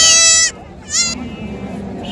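Sheep and goats bleat loudly and close by at a Saturday livestock market in Dhone, with a long cry, a short pause, another bleat, and then crowd murmur.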